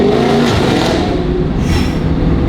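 A Dodge Hellcat with a Valvetronic Designs valved sport exhaust and 3-inch piping roars loudly and steadily through a downshift, heard from inside the car with the windows partly down.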